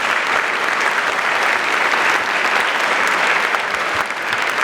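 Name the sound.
applause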